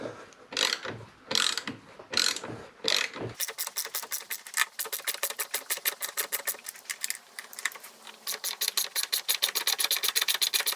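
A T45 Torx socket on a ratchet works the brake caliper bolts of a KTM Super Duke GT. A few heavy strokes give way to a long, steady run of quick, close metallic clicks.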